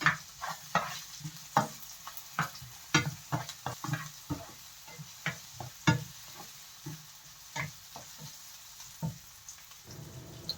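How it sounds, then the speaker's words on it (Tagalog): Onions for pancit bihon sauté in a pan, giving a faint sizzle under frequent sharp scrapes and taps from a stirring utensil. The sound is irregular and close, with no voices. "Lagay ko na yung aking sibuyas."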